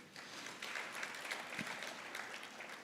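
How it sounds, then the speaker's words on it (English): Faint applause from an audience at a provincial treasury budget speech breakfast in Mpumalanga, honouring the MEC for Treasury; a steady, distant patter of clapping lasting about three seconds. "We can give him a round of applause."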